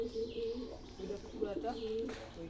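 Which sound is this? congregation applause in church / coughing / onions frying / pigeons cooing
pigeons cooing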